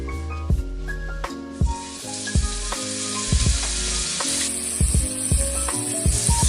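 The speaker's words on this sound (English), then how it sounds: "Now it's time to sear our steak." Steak searing in an oiled pan, a steady loud sizzle and spit running throughout, with repeated thuds and knocks of the pan and utensils breaking through at intervals.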